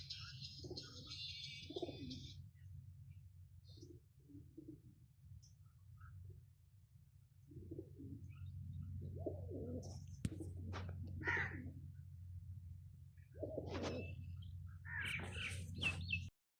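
Pigeons cooing and calling with other birds, low soft calls repeating through a steady background hum, occasional sharper chirps near the end, close and moderately loud.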